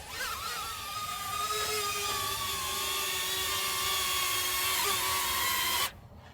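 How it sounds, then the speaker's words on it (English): A small drone hovers and flies back toward its operator for a palm landing, a loud, close, steady high-pitched propeller whine with shifting tones that cuts off abruptly near the end. "When it's done going up there and doing the little droney, it's gonna fly back to me."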